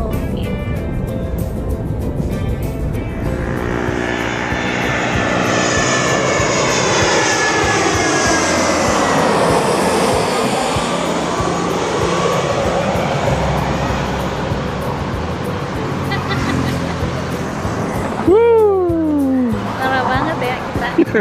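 An airplane passes close overhead while landing, its engine roar swelling to a loud peak then fading with a falling sweep; people talk over the noise throughout.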